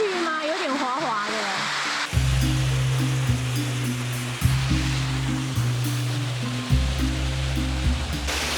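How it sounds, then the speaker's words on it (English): Rushing water at the top of the second waterfall beside a pool in Taiwan's hills, a steady broadband roar throughout, with voice-like tonal sounds over it early on and low droning tones joining after a couple of seconds. "So we're now on top of the second waterfall."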